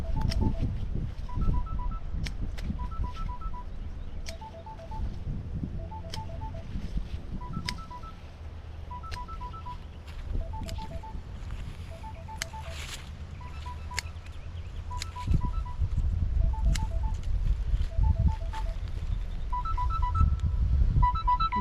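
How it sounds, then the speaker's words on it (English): A repeating electronic beeping pattern, short tone bursts in regular clusters, continues steadily over a low rumbling background for about twenty seconds. "okay, that's my alarm"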